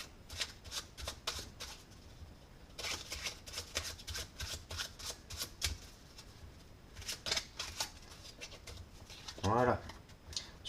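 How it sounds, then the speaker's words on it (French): A deck of playing cards is shuffled over and over during a magic trick, a steady run of crisp riffling bursts heard up close, with a brief louder flutter near the end. "Je vais mélanger ensuite d'une autre manière plusieurs fois,"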